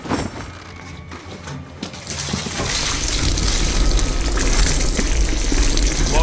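Water is poured over a captive's face in a Call of Duty game scene, a loud, rising gush that swells and keeps flowing after a quieter start.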